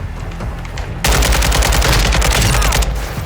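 Rapid automatic gunfire from the multiplayer game Call of Duty: Modern Warfare II with a Kastov 762 rifle: sparser shots at first, then a dense, loud burst of close, sharp reports lasting about two seconds.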